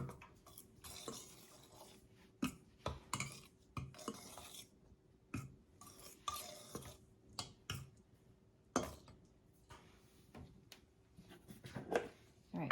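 Self-rising flour, salt and other dry biscuit ingredients are stirred in a bowl, with a series of irregular scraping clinks of utensil against dish and brief pauses between strokes, close and fairly quiet.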